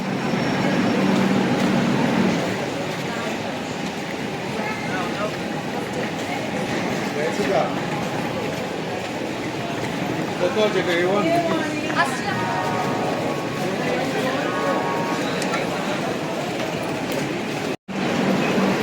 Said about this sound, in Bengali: ট্রেন চলে এসছে, সবাই উঠে গেছে, এখন আমি উঠবো